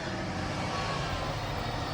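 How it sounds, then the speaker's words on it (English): A truck drives past outside, a low, faint engine rumble that holds steady and swells slightly at the very end. "Except for that stupid truck."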